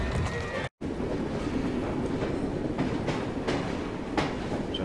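A video game train rolls steadily along with a continuous rumbling rattle and rhythmic clacking of wheels over the rails, loud and close, with a brief cut to silence near the start.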